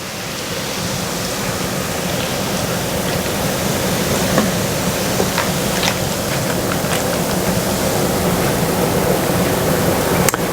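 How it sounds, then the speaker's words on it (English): Light beer poured from a large can over pork knuckles, a steady continuous splashing and fizzing pour running close and fairly loud from start to finish, with no talk. "So I'm just going to pour the beer in."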